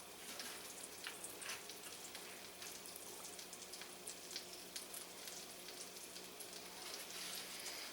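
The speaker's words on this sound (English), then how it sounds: "Pan's sizzling over here" Chicken pieces sizzle and crackle steadily in a hot frying pan, a continuous hiss with scattered pops, no talking.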